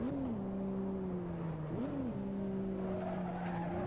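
Race car in Assetto Corsa, a racing video game, engine note dipping as it turns, then climbing again as it reaccelerates, with a brief tire-scrub sound at the turn. The car is close and steady throughout, and no one speaks.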